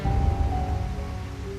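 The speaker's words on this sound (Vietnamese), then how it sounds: "xin Ngài dừng cơn mưa" Steady, dense rain falling as a storybook sound effect, a continuous hissing wash with a low rumbling undertone, even and unbroken throughout the short moment.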